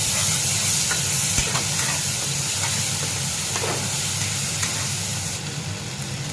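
Ground tomato paste goes into hot oil and spices, giving a steady loud hissing sizzle with a few faint stirring clicks that eases slightly near the end, no voices.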